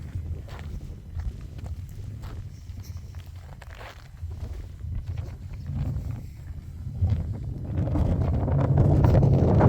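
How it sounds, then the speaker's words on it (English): Wind gusts outdoors on open ground during a prairie dog hunt, a steady low rumble of buffeting against the microphone that builds louder toward the end, with no talking. "Hear the wind there."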